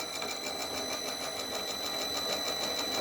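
A home-made gear hobbing machine runs a little faster, giving a steady mechanical whir with a fast, even periodic ticking and a constant high-pitched whine throughout.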